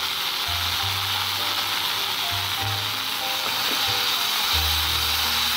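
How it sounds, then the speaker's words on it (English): Vegetables sauté in a pan for vermicelli upma, a steady close sizzle and hiss of frying with faint low tones underneath throughout. "After sauteing the vegetable for 5 minutes,"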